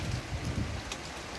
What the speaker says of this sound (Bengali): আর বৃষ্টি তো পড়ছে একদম